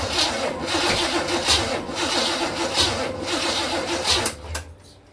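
A Chevrolet Nova SS with its distributor set 180 degrees out cranks over without firing, giving a rhythmic, repeated starter churn heard up close before it cuts off near the end.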